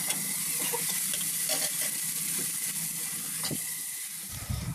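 Chopped ridge gourd stirred into browned onions in a hot pan, a constant close sizzle with light scraping stirs, ending with a few louder spoon clatters.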